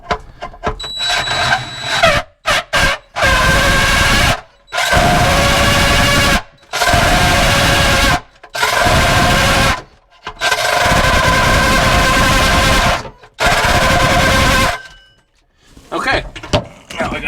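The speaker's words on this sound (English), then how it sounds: "I'm trying to drill on the angle of the hull." A power drill whines in several sustained bursts, drilling at an angle through an aluminum boat hull, separated by short pauses, loud and close, with brief handling noises in between.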